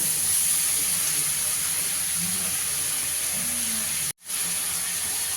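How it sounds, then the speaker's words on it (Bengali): Vegetable stalks fry in a pan with salt and turmeric, making a steady, close hiss and sizzle that runs throughout, broken only by one brief drop near the end. "নুন হলুদ দিয়ে ডাঁটাটাকে একটু ভেজে নেবো আগে।"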